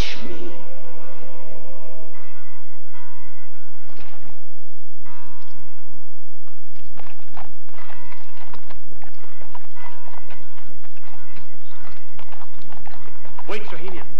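A horse gallops in a 1981 period film soundtrack, rapid hoof beats clattering loudly over bell-like music and dramatic score, with no speech.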